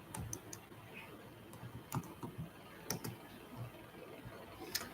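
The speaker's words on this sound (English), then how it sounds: "Let me type it in." Fingers tap irregular, quiet clicks on a computer keyboard in a still room, a short run of typing with no talk.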